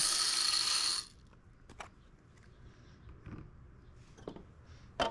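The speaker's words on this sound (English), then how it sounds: "Let's get our beans in the machine." Coffee beans poured into a popcorn machine for roasting: a loud, dense rushing pour lasts about a second, then scattered clicks, rattles and taps follow close by.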